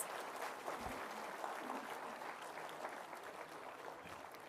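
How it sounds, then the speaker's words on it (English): Warm round of applause for distinguished guests at the inaugural ceremony of the 10th All India Conference, a full hall clapping steadily and evenly from start to finish, fairly distant. "please join me in the warm round of applause for all our distinguished"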